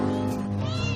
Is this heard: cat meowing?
yes